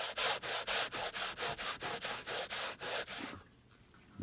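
A brush scrubs cleaner into a dirty car headliner in quick, even back-and-forth strokes, about a dozen close rasping passes before it stops, heard up close with no voices.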